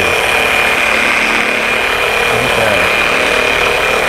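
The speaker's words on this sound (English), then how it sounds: "Bump the speed down on the flex to a 1." A Flex polisher running at low speed on car paint, a loud, steady motor whine and hum that continues unbroken, with a brief spoken word over it.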